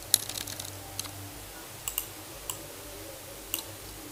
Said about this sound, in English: That which you press on enter or tap on the keyboard.